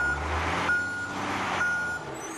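A voice imitates a garbage truck reversing, with steady repeated reversing beeps over a low engine-like rumble, loud and close throughout with no other talk.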